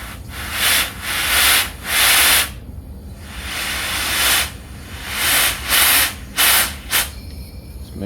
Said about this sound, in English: I'm just going to run some air into the end of this tube.